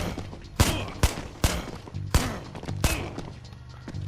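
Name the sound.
gunshots at enemies in video game Body Camera Shooter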